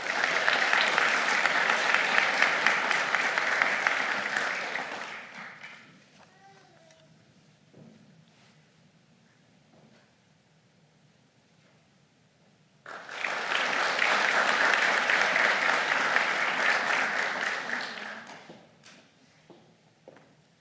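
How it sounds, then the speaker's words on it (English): An audience claps warmly at a 2022 nursing pinning ceremony in two sustained bursts of applause, each lasting about five seconds, separated by a quieter stretch of room sound and faint voices. "I think they deserve one more round of applause here, folks"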